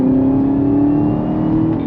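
A 2021 Chevrolet Camaro ZL1 1LE engine revving under throttle, a loud, close, sustained roar with a steady rising pitch heard from inside the car.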